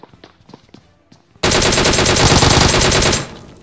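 Soft footsteps patter before a sudden, loud automatic gunfire burst in BGMI / PUBG erupts and hammers on without pause for nearly two seconds, then cuts off.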